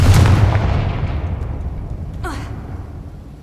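A Confringo blasting spell in Hogwarts Legacy goes off as a loud, booming blast that rolls away over a few seconds, with a brief swishing magical flourish near the end.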